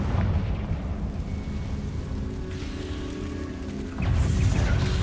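A Confringo fire spell blast in the video game Hogwarts Legacy, a loud rumbling explosion with crackling debris that sustains, then a second heavy burst hits near the end, with no talk over it.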